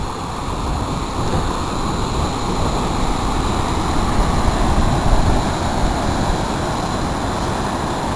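Water pours over a dam on the Lehigh River in a steady, broad roar, constant and loud with no pauses.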